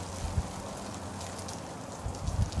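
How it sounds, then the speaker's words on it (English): Steady rain falls outdoors in a snowy setting, a continuous dense hiss of drops with occasional low thumps, filling the whole short stretch without talk. "And now it's raining."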